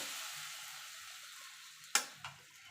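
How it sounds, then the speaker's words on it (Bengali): Cardamom, cloves, peppercorns and cinnamon sizzle faintly in a pan, with a quiet hiss that fades, then two sharp knocks of a spoon stirring against the metal. "এটাকে একটুখানি নেড়ে নেবো"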